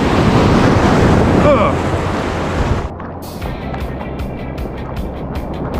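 Ocean surf rolling onto a beach during fishing, a loud, roaring wash of breaking water blended with heavy wind buffeting the microphone that drops off abruptly about halfway through, leaving a quieter rushing surf.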